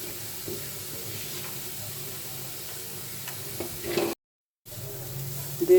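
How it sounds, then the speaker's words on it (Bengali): Grated carrots fry in ghee while being stirred, giving a soft, close sizzle with light scraping that is quiet and steady, interrupted by a short silent gap near the end. "এভাবে ঘিয়ের ভিতরে জিনিসটা আমি ভাজবো"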